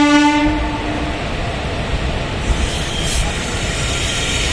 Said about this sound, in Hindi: तो ट्रेन का डिपार्चर यहाँ पर हो चुका है मिडनापुर से